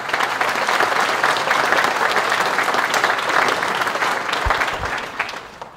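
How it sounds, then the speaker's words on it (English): Physician assistant students at a jacketing ceremony applaud themselves: a loud, sustained wash of clapping from a large room, holding steady for over five seconds, then thinning at the end, with a couple of low thumps. "definitely give yourselves a round of applause"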